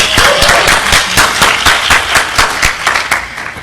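A hacking-conference audience in a DEF CON presentation hall breaks into loud, dense clapping that holds steady throughout, close and full.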